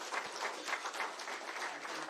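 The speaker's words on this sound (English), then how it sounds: "May I request you all to clap for the." A brief burst of audience clapping at a Business Continuity Awareness Week event, fairly faint and distant, with a steady patter of many hands.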